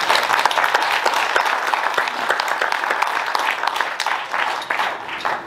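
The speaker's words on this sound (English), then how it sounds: "please join me in a round of applause for CPA" Sustained audience applause at an outdoor ribbon-cutting event for a solar-plus-storage facility, a dense, steady clatter of many hands clapping that carries evenly throughout before tapering slightly at the end.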